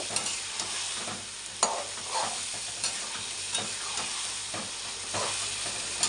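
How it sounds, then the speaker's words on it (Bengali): A fish masala with Kashmiri chilli powder is sautéed in oil, with a steady sizzling hiss and intermittent soft spatula scrapes and taps, close by, and no speech. "এখন আমি ভালোভাবে এই যে কষিয়ে নেব।"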